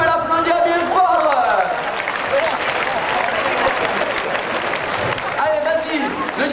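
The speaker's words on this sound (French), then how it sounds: "On peut l'applaudir bien fort." A crowd applauds at a toro piscine, a bull game held around a pool, with a dense, steady wash of clapping and crowd noise while an announcer talks over it.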